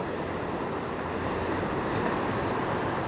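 Ocean waves rush onto a beach in a constant, broad roar mixed with wind buffeting the microphone, loud and steady throughout with no voices.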